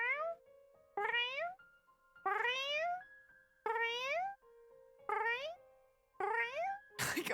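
A cat meows over and over in a steady rhythm, about six drawn-out, rising-and-falling cries each separated by short pauses, close and clear, ending with a brief noisy burst.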